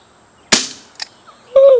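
A CR .357 pellet revolver fires one sharp, loud crack, followed by a smaller impact snap and then a brief tonal ring.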